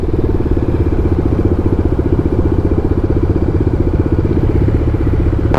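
Several motorcycles run together on a group ride just past a highway toll plaza, a steady, loud, close engine drone with dense rhythmic pulsing that holds unbroken throughout.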